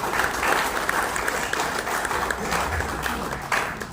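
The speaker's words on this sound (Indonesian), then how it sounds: "Tepuk tangan buat kita bersama." Audience applause at a community forum gathering at a local government office in North Jakarta, sustained and fairly loud clapping from a room of people throughout, with no speech over it.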